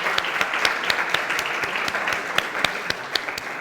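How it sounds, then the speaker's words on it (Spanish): A small group claps in sustained applause, with individual hand claps clearly distinct and steady throughout. "Un aplauso."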